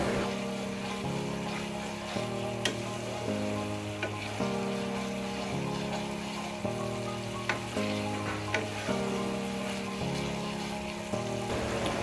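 Spices for a bata fish curry fry and get stirred in a pan, a soft continuous sizzle with faint scraping, sitting underneath a stepping melodic music track throughout, with no one talking.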